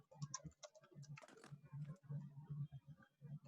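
Fast, irregular tapping on a computer keyboard, close and clear, with bursts of keystrokes and short pauses between them.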